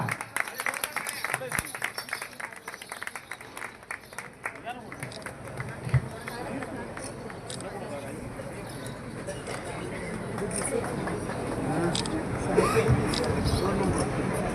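Audience applause at a Marathi cultural event honouring a Kathak dance choreographer, a broad crowd clapping that swells and holds steady, with some murmuring voices underneath.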